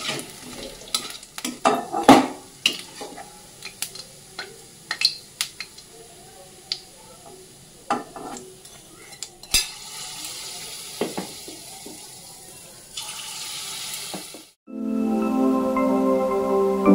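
Palm fruit fritters frying in hot oil, a steady bubbling sizzle that swells loud near the end, preceded by stirring clinks and kitchen handling sounds.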